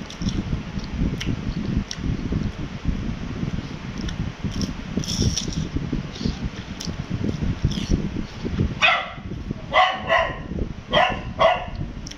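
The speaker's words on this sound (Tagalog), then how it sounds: "Maingay aso ko." A dog barks in a quick cluster of sharp yelps toward the end, heard over a steady rumbling background noise.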